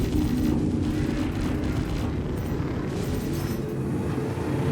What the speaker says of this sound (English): Get some good shots there.